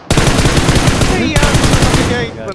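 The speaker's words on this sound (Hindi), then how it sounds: "नीचे आ गया गोलियां सीधी मार रहा हूं मेरी गन ऊपर चली जाती है" A machine gun in a shooter video game fires loud, continuous rapid bursts at close range, with a brief break midway before the fire resumes.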